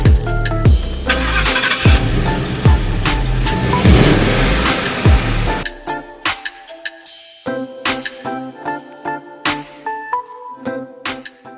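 A 2017 Ford Mustang GT V8 starts outdoors at a country club: a loud burst of crank and a deep roaring catch that settles into a sharp, pulsing rumble with distinct exhaust pops, close by.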